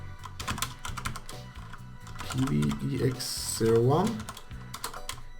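Keys tapped on a computer keyboard while entering an email server address into a browser tab, a light, quick run of clicks under steady nearby speech.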